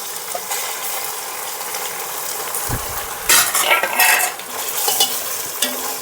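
Onions with ginger garlic paste fry in a pan for Andhra-style bagara rice, giving a steady close sizzle broken by scraping, clattering stirs of a spatula.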